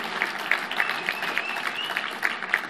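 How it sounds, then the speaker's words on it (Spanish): Applause from an audience at a book-reading event, cheering a group of very young musicians playing Oaxacan fandango music; steady, dense clapping throughout with a few sharper claps standing out. "Les pedimos un fuerte aplauso para estos chicos"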